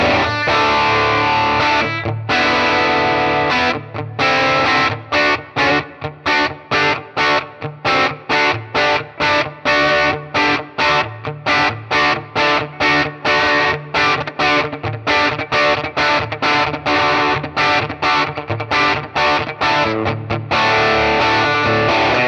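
Overdriven electric guitar played through a Sun Dragon Coronado amp model with creamy mids, loud distorted chords struck in a steady rhythmic pattern with short gaps, continuing for over twenty seconds without talk.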